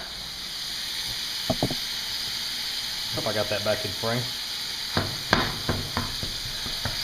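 Ground beef browning in a hot pan for nachos, with a steady broadband sizzle running throughout while someone talks briefly over it and a few utensil knocks and scrapes stand out near the end.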